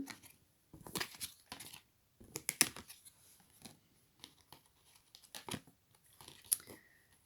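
Tarot cards are drawn and handled in quick, close bursts of papery shuffling, slapping and rustling, separated by short quiet gaps.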